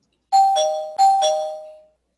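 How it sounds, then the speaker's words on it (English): A spoiler bell sound effect rings out alone as a doorbell-style ding-dong chime, played twice in quick succession with each tone fading out clearly. "I'm going to ring the spoiler bell."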